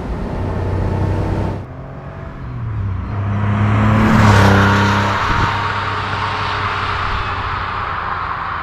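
Engine of a 1983 Porsche 911 SC Cabriolet with 200 PS, heard from inside while driving: a loud, steady drone that dips briefly, then swells again as the car accelerates, with no talking.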